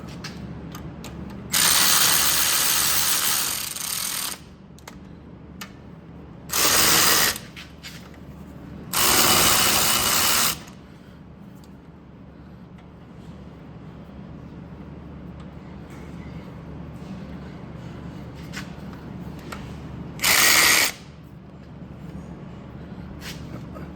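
Ratchet wrench running down the wheel hub bolts on a 2006 Chevy Silverado during a front hub and bearing replacement, in four loud bursts of rapid clicking separated by quiet pauses.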